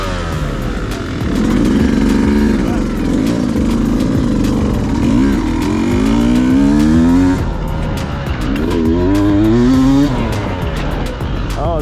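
A Beta 200 RR Race Edition dirt bike at a demo day: its engine revs loud and close, climbing and falling in pitch through repeated throttle sweeps as it rides past.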